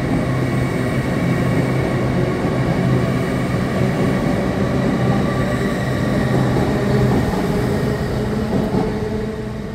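A class 802 passenger train running from Manchester Airport to Edinburgh Waverley gives a loud, steady rumble with a continuous roar and a low hum, holding near and constant for the whole stretch, with no talk over it.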